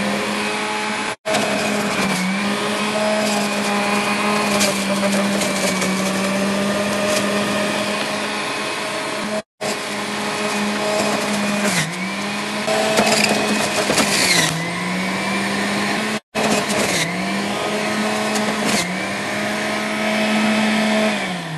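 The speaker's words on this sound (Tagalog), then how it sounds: "Ito na, in-slice ko na, ilalagay ko na dito sa juicer." An electric juicer working through sliced fresh fruits, a steady loud motor whine with a few very brief cutoffs and small pitch dips as it is loaded, without any talk.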